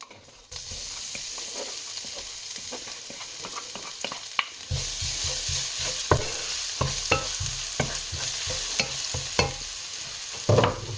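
Tomatoes go into a hot frying pan after chicken steaks: a constant loud sizzle that jumps up when they land, then turns into scattered scraping stirs and small crackles.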